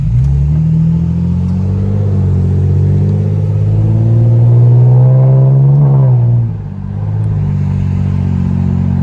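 A loud, deep V6 car exhaust drones steadily as the engine revs higher, rising in pitch before easing off near the end.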